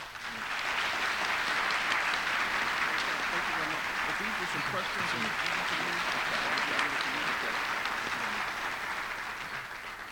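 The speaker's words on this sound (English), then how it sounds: "Please welcome me, with great applause" Sustained applause from a lecture audience welcoming a speaker at a Black liberation film series event, dense and even for about ten seconds, with faint voices mixed in beneath the clapping.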